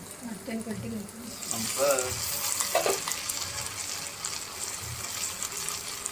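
Chilapi fish fries in oil on a banana leaf under a lid, giving a constant soft sizzle while a person talks over it at moderate volume.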